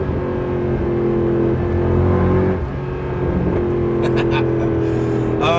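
A Mercedes W204 C63 AMG engine revs and accelerates loudly while overtaking, pitch rising and shifting through gears, with some clicking at the end.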